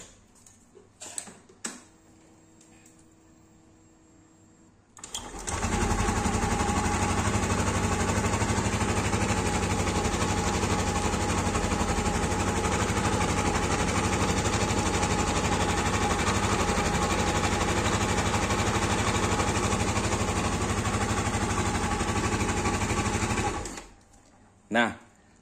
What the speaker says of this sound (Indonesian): Nih saya contohin suara motornya.